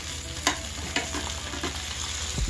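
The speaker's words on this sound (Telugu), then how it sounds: "2 నిమిషాల పాటు మరోసారి ఇలాగా కలుపుకోవాలి సన్నటి సగం మీద ఫ్రై చేసుకోవాలి" Stuffed brinjal masala being stirred and fried in a pan: a steady soft sizzle with a few sharp scraping stirs of the spoon, close and moderately loud, no talking.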